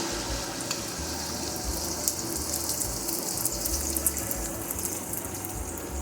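Eggs fry in oil in a home kitchen pan for shrimp fried rice, giving a steady close sizzle and hiss with faint crackles throughout, alone without talk.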